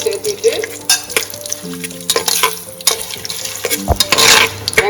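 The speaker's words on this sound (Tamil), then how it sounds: "எல்லாம் போட்டு நல்லா வதக்கணும்" Cashews and onions sautéed in a pan for mint rice, with loud scraping stirs and clanks of a spatula against the pan over a light sizzle, the strokes irregular and close.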